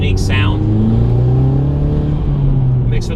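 A turbocharged Honda S2000 with an unequal length header revs up loud and close, its engine note climbing in steady rising tones. A voice talks over the engine.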